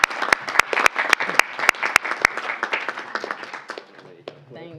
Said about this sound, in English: And a big round of applause for the City.